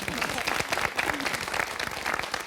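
An audience bursts into sustained applause at a political discussion, dense rapid clapping from many hands filling the room, steady and loud throughout.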